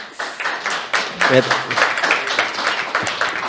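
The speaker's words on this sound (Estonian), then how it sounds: "Teeme aplausi" An audience at an email marketing summit talk breaks into applause, a steady patter of many hands clapping at moderate distance, with a voice speaking over the clapping.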